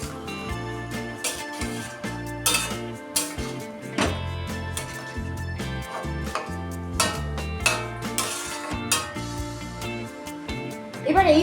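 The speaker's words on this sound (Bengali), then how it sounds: "এবার একবার ভালোভাবে মিশিয়ে নিচ্ছি" Chicken being stirred and mixed in a metal pot for Badshahi chicken, with repeated scraping and clinking of a spoon against the pot in an uneven rhythm over steady background music.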